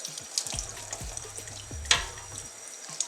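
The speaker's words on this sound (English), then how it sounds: "See how there's still makeup in there? Really rinse it out." A makeup brush rinsed under a running tap, soft uneven splashing water with small clicks and a sharp knock near the end, fairly quiet and without speech.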